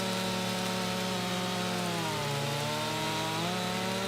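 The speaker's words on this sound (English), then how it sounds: "oh, come on, chainsaw, don't start doing that." A chainsaw in the farming game Farming Simulator 25 buzzes steadily as it cuts wood, an even engine drone that dips in pitch briefly as the blade bites, then recovers.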